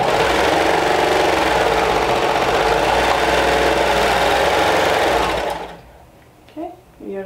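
A sewing machine runs loud and steady, stitching through three layers of fabric at the front of a sleeve seam, then stops abruptly, leaving quiet room sound and a brief voice.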